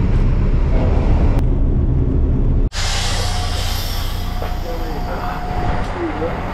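Steady loud rumble of a moving train on a regional route toward Hungarian wine country, with a sudden brief dropout and then broader, brighter rolling noise as the carriage sound continues.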